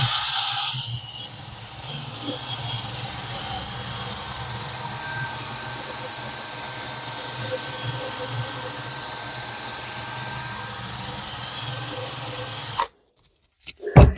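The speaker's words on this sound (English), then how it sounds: "I'm just using a wire brush." A wire brush scrubs residue off a motorcycle front brake disc in steady, continuous rasping strokes for about thirteen seconds before stopping abruptly.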